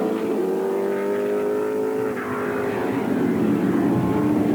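Formula 5000 racing cars, including a Lola T430, roar and whine past at Ruapuna, New Zealand, one pitch sweeping down mid-way, with steady loud mechanical noise throughout.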